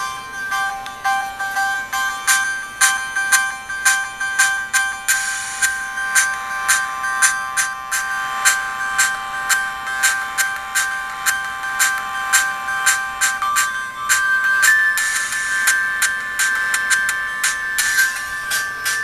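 A MIDI file played back on an IBM RS/6000 43P 140 PowerPC workstation running AIX 4.3, thin tinny synthesized tones in quick repeated notes and sustained lines, moderately loud with no voices.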